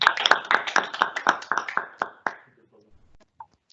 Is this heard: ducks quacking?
no